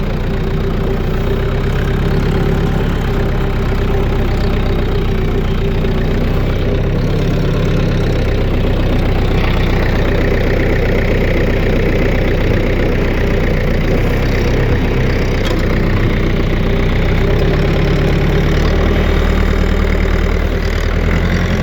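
A tractor's engine idles in a heifer barn during manure hauling, a steady, loud, low rumble that holds constant throughout with no speech over it.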